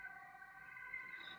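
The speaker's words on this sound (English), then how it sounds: "I think that's the 3rd ambulance already." A distant ambulance siren near a beach wails steadily, its tone holding over a quiet background with no voices.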